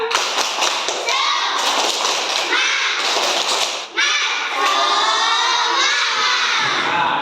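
A group of schoolchildren claps and chants the tepuk semangat spirit clap in a classroom, rhythmic bursts of hand claps mixed with loud shouting voices.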